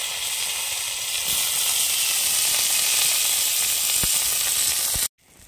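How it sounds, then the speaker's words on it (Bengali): Cauliflower frying in hot oil in a wok, giving a loud, steady sizzle and hiss throughout, with a few faint clinks, before cutting off abruptly near the end. "এবার আমি ভেজে নেবো এটা তেলে। তেলটা গরম হয়ে গেছে"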